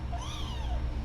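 A kitten gives one clear, rising-then-falling meow, close and fairly loud, over a low background rumble.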